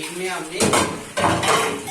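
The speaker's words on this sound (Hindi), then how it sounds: "तो देखिए, इस पैन को वॉश कर देते हैं" A pan is washed at a kitchen sink while pots and utensils clatter in two loud bursts of metallic clanking over running water, close by.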